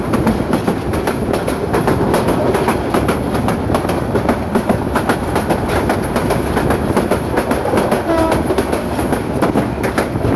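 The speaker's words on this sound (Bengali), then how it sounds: "ট্রেনটি বাজিতপুর রেল স্টেশন ক্রস করে যাচ্ছে" A train passes through Bajitpur railway station without stopping, a loud, steady rumble of rail cars with rhythmic clickety-clack of wheels on the track.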